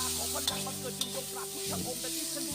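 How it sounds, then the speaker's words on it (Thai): Frog curry is stir-fried in a pan, a steady close sizzle broken by a few sharp scrapes and clacks of the spatula, with no talking. "ผัดไปนะครับ ผัดผัดผัดผัดผัดนะครับ ผมชอบแห้งๆนะครับ ผมก็จะผัด นานหน่อยนะครับ"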